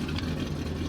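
A Roush engine idling smoothly, a steady low rumble heard close and alone, with no talk.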